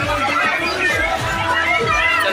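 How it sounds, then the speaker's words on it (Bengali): Crowd at a Kolkata Durga Puja pandal near a station, a dense babble of many voices and chatter, close and continuous. "ভিড় দেখো গাইস"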